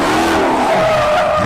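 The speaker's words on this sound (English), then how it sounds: "Burnouts, donuts, the works." Tires of a gold Dodge Charger squeal loudly and continuously through burnouts and donuts, with a sustained high-pitched screech over a steady engine roar, close and unbroken.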